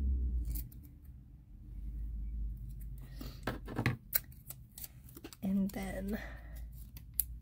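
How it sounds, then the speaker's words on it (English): Scissors snip straight across planner paper in a few crisp, close cuts, with brief quiet speech in between. "So I'm just going to cut this straight."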